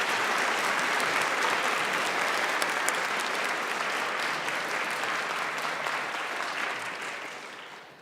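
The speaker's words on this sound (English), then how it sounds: "Let's have a round of applause for the Speaker." An audience at a Minnesota YMCA Youth in Government convention claps for the newly sworn-in youth Speaker, a dense sustained round of applause that slowly tapers off toward the end.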